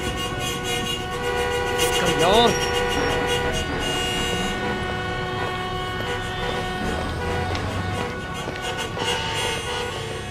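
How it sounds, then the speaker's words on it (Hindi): Car horn honking repeatedly at night on a street, sharp tonal blasts recurring through the clip under loud overlapping voices of people arguing. "अर्जुन तू हॉर्न बजा रहा है।"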